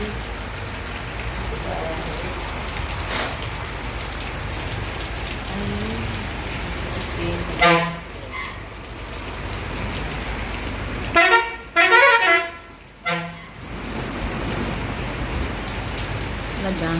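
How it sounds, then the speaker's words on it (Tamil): Heavy rain falling steadily, a dense constant hiss throughout, broken by a few brief car horn toots partway through. "மழை ஆரம்பிச்சிருச்சு நல்லா கனமாகவே வருது"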